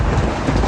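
Steady rain falling outdoors, a brief, dense rushing hiss with low rumble that fills the whole moment with no speech.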